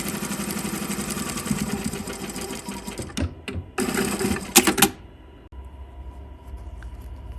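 Sewing machine stitching and back tacking a seam on a zippered bag, a steady close motor whir that stops and restarts in short bursts before falling quiet.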